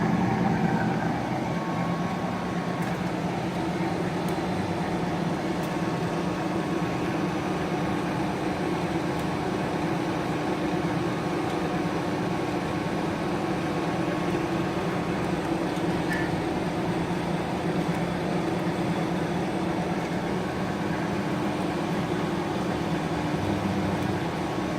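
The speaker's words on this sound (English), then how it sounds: "This is the threading we are doing." A lathe cutting a 16-count Whitworth thread in a machine shop, heard as a steady mechanical hum and drone with faint tonal whine and no talking.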